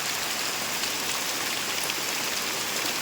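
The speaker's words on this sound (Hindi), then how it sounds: "पूरा वर्षा प्रबल वर्षा होची" Heavy rain pours down steadily in a dense, loud, unbroken hiss with no pauses and no voices.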